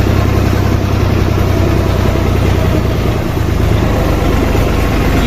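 A tractor pulling a trolley loaded with harvested wheat runs at a steady, loud idle close by, its low engine rumble continuous throughout, with no voices over it.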